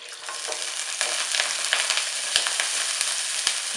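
Garlic, cloves and cinnamon sizzle loudly in hot oil in a pan, a dense continuous hiss dotted with small pops and crackles, close and alone.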